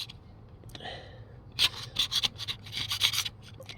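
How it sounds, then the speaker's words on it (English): A paint scraper rasps old paint off a wooden bed frame in a burst of short, close strokes after a quiet start, each pass a gritty scrape. "The scraper just to scrape the paint off."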